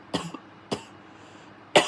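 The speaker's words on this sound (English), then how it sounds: "I'm gonna cough again." Three separate coughs, a short double cough and then two single ones, from a nearby person in a quiet room.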